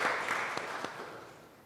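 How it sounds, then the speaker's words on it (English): Brief audience applause at an economic summit, a soft patter of clapping that tapers off within a second or two. "Give yourselves a round of applause."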